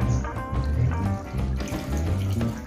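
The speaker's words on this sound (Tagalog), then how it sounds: "So, let's put water now." Water pours into a pot of Filipino adobo simmering in vinegar, a close, steady splashing gush with a light bubbling trickle underneath, no talking.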